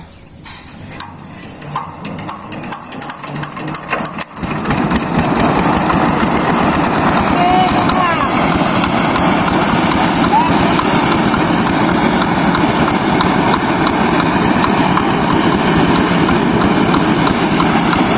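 Rice paddy threshing machine engine in a village field, irregular sputtering pops as it starts, then a loud steady running drone, with voices in the background.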